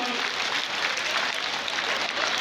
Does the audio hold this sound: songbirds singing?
no